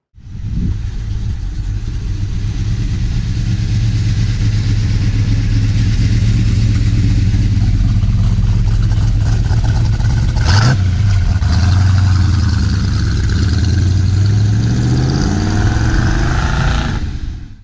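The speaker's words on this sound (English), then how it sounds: "Let's take this 71 Chevelle for a ride. Big block, 4-speed, black, white stripes." Big block V8 in a black 1971 Chevrolet Chevelle with a 4-speed manual, a loud, deep steady rumble close up, then a sharp blip and several rising revs through the gears near the end, no voices.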